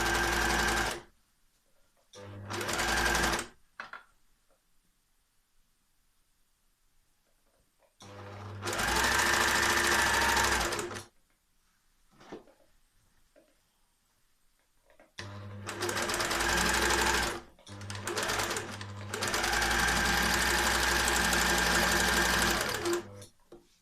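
A serger overlocker sews an armhole seam on fabric, running in several close, loud, steady bursts of rapid whirring stitching separated by quiet pauses with faint handling noises.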